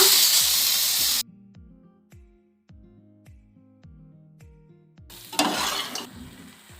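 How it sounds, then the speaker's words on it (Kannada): A loud sizzle cuts off abruptly, then comes a series of soft thuds and clunks as chicken pieces drop into a pan with coconut before a hissing sizzle returns. "ಈಗ ಇದನ್ನು ಈ ತೆಂಗಿನಕಾಯಿ ಹಾಕಿರೋಂತಹ ಬಾಣಲೆಗೆ ಹಾಕುವ"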